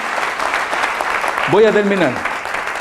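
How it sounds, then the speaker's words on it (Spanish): Crowd applause fills the background at a church service while a voice calls out over it with a rising, drawn-out shout. "Démosle un aplauso al Señor Jesucristo."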